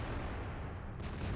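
Tank cannon fire in World of Tanks, heavy booming blasts that fill the short stretch with a dense, rumbling low-end roar, loud and continuous with no talk.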